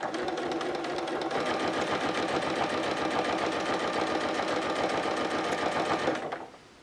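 A sewing machine runs steadily as it stitches through plastic for an artist's case holding pencils, pens and a paper pad, a continuous close mechanical whir that stops abruptly near the end.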